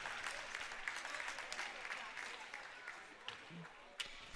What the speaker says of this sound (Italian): che si merita anche un applauso per